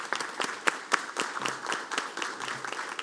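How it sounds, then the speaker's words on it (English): An audience at a police academy graduation ceremony applauds the graduates' family members, with sharp scattered claps over steady crowd clapping, moderately loud and sustained. "I think we should give your family members a round of applause"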